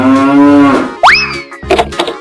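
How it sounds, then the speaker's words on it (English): A cartoon cow in a children's animal song gives one drawn-out, loud moo, followed at once by a springy rising boing effect and a brief scatter of bright musical sounds. "Cow."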